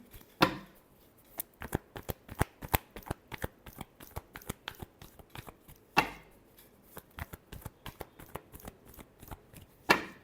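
A deck of tarot cards is shuffled by hand in quick rapid bursts of crisp riffling clicks, with two sharper slaps where the deck is squared, close and without talk.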